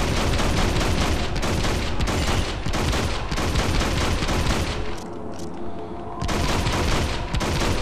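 Rapid machine gun fire in the Hunter: The Reckoning video game, dense continuous bursts of loud gunshots with a brief lull near the end before firing resumes, no voices over it.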